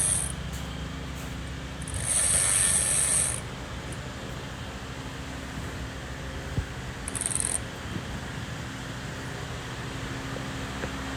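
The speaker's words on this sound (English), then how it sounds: "we're gonna use our electrical wrench to remove now the number" An electric impact wrench removes the CV axle nuts on a 2007 Toyota Sienna 3.5, with a longer high-pitched whirring burst and a brief second one against a quiet garage background.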